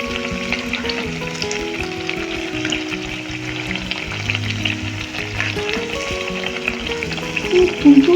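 Sweet potato malpua frying in oil over a medium gas flame gives a steady, close sizzle with light bubbling crackle throughout, while music plays underneath.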